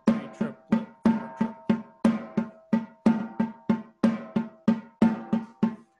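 A drum plays four triplets in a row, accented on the first note of each triplet, with no fancy stickings. The sharp, even hits fall in a steady, loud, close rhythm with no voices.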